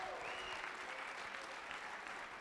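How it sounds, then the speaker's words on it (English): Faint, distant applause from an audience at a national intellectual property event, a soft wash of clapping lasting only a couple of seconds. "let's give the national IP organizations a round of applause"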